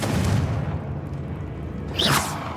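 A Confringo spell in Hogwarts Legacy bursts with a sharp booming explosion near the end, after a low rumbling wash of game ambience.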